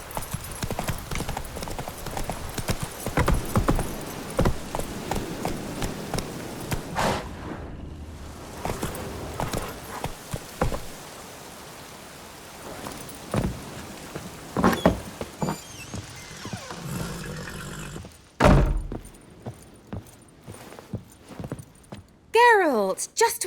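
Hoofbeats of Roach, Geralt's horse in The Witcher 3, clop in irregular rapid bursts on the ground, with a voice speaking over parts of the ride and a short whinny-like squeal near the end.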